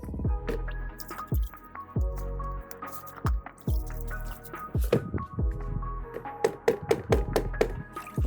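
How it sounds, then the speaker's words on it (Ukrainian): Water splashes and drips over a Pro-Craft PWA36 cordless impact wrench as sand is rinsed out of it, with repeated sloshing pours, squishy handling noises and scattered drips, close up with no talking. "А тепер давайте спробуємо відмити пісок водою."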